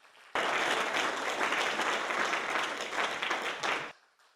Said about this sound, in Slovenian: Aplavz torej še enkrat za vse učence in učenke osnovne šole Prežihov Voranc.